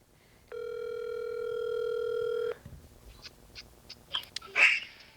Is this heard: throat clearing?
no